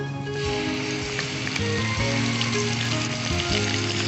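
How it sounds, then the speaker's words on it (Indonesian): Ground spice paste hitting hot oil for a sauté, producing a steady, close crackling sizzle that continues evenly for a few seconds with no talking over it. "Kemudian kita lihat bila minyak telah cukup panasnya, segera bumbu yang dihaluskan ini tumis."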